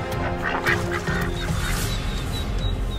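Ducks squabbling on a lake, a close flurry of harsh, overlapping quacks and honking calls with splashing movement, no talk.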